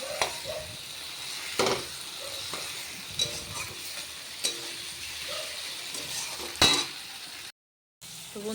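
Spice paste of ginger, garlic, onion, chili powder and turmeric fries in oil for a fish curry, giving a soft steady sizzle broken by repeated close scrapes and clinks of a spatula against the pan.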